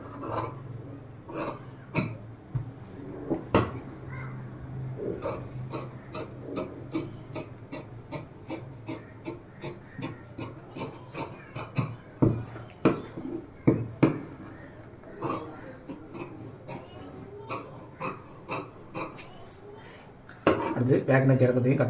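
Scissors snip through blouse fabric in a rapid series of crisp, evenly spaced cuts, close to the listener, with a voice talking at times around the cutting.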